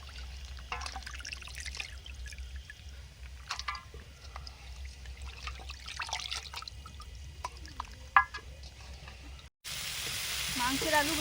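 Potatoes for a desi rooster (country chicken) curry fry at an outdoor winter family picnic, a steady sizzle with occasional trickling and stirring, close and fairly loud, running throughout with a brief gap near the end.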